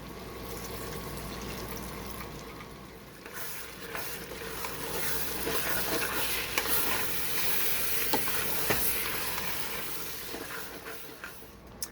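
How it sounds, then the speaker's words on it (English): A pot of Sicilian bean stew hisses and sizzles as Sicilian wine is poured in to deglaze it, steady close frying noise with stirring scrapes and a few sharp clicks. "we're going to deglaze the pot with some beautiful Sicilian wine"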